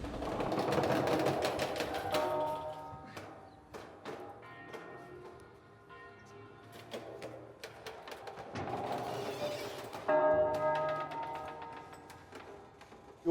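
Bronze church bells ring in a tower in São João del-Rei, with bright overlapping strikes in rhythmic clusters and long, ringing decays.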